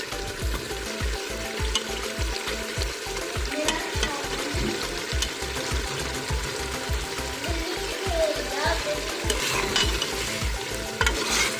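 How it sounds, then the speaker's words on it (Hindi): Turnips fry in a pot while being stirred, a steady sizzle broken by rhythmic scraping strokes, close and continuous with no talk. "गाइस 10 मिनट तक हमने शलजमों की भुनाई कर ली है।"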